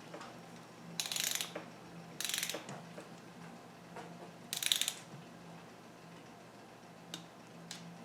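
A Harbor Freight torque wrench ratchets while tightening bolts on a 1971 Honda CB175 engine. Three short bursts of quick clicking come close and fairly quiet, followed by a couple of isolated ticks.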